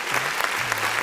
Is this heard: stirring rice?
no